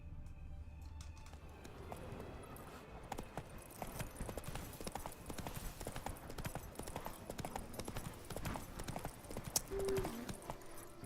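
Hooves of the horse Roach clip-clopping in The Witcher 3, a steady rapid trotting beat on hard ground continuing throughout at moderate volume, with a faint voice near the end.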